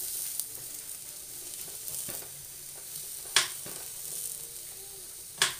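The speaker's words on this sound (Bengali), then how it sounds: "আমি কিন্তু বেগুন তুলে এভাবে হাত দিয়ে নেড়ে দিচ্ছি" Brinjal slices dry-roasting without oil in a hot pan are turned by hand. A soft, steady sizzle and hiss is broken by a few sharp clicks and taps as pieces are lifted and dropped, and no one speaks.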